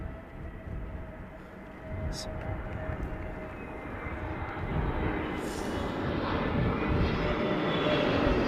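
A deep, steady jet engine roar from an Airbus A330neo engine test run at London Heathrow Airport rumbles on at length, building slightly louder toward the end, with a faint voice briefly audible over it.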